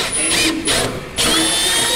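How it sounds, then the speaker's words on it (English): A power drill whines loudly while boring a hole in a Dodge Ram 1500 SST truck during a Hemi engine swap, with two brief dips in pitch as the bit bites, close and alone. "I'm gonna drill one hole up here"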